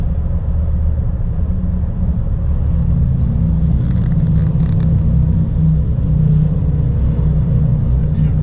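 Motorcycle police escort and a long line of cars roll past in a fall parade in Santa Fe, a steady loud low engine rumble throughout with no single vehicle standing out.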